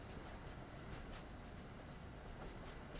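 Train rolling along the track in Train Sim World 2, a steady dense rumble of wheels and rails with faint rhythmic clicks, continuous and close throughout.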